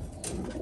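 Domestic pigeons kept in a tiered home loft give a brief, soft cooing call at close range, with no talking.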